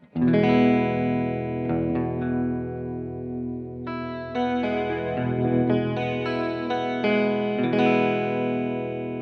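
A sustained electric guitar chord through an OBNE Expression Ramper pedal set to chorus shimmers with a wavering, doubled chorus effect, new strums every couple of seconds ringing out without any talking.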